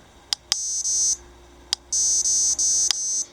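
Short high-pitched electronic beeps from a KoolKani KK-360R dog training collar: two quick chirps, then a sustained tone broken into segments, another chirp, and a longer pulsing tone, clear and close.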